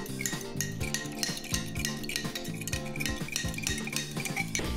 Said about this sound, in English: Mix the buffer with a fork carefully.